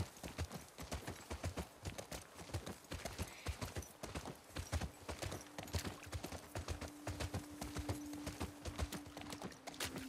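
Horse hooves clip-clop steadily on hard ground in The Last of Us Part II, several animals walking in a brisk uneven rhythm up close, with a faint sustained tone entering partway through.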